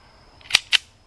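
Two sharp pistol shots from a SCCY CPX-3 .380 fired at 6-inch steel at 12 yards, close and loud, spaced about a fifth of a second apart with no talking.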